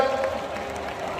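A large crowd claps at PM Modi's public rally in Raipur, Chhattisgarh, producing a dense, steady wash of applause throughout, with a faint voice near the start.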